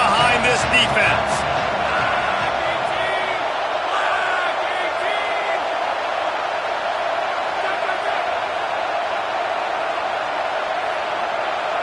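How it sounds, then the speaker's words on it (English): Stadium crowd in a football video game roars steadily throughout, with a few whoops and shouts standing out early, loud and unbroken from start to finish. "Big 3rd down as the crowd gets behind this defense."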